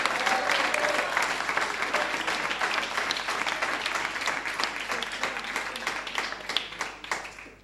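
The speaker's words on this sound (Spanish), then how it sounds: "¿Cuántos dan un aplauso al Señor de verdad?" A church congregation at a Christmas service applauds for the Lord, a sustained wash of many hands clapping that holds strong and tapers slightly toward the end.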